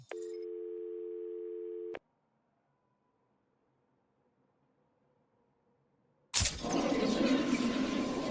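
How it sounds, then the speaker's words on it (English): Telephone tone in the Batman Arkham City video game: a steady electronic tone for about two seconds that cuts off, then silence, then a burst of loud noisy sound. "Answer my phone and answer it quick, Batman."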